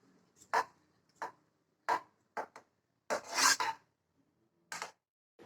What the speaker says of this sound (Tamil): கரண்டியை வச்சு நல்லா மிக்ஸ் பண்ணிக்கிட்டே இருங்க.